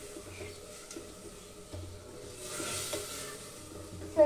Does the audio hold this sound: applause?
no